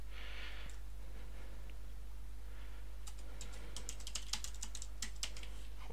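Keys clack on a computer keyboard, quiet and sparse at first, then a quick run of close, crisp strikes over a steady low hum, with no talking.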